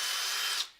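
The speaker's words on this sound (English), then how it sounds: "you can tell when you're drilling into 70-75 aluminum" A power drill bites into 7075 aluminum for a hardware upgrade on a Typhon 6S RC car, a loud, steady high whine that cuts off abruptly and trails away, close up.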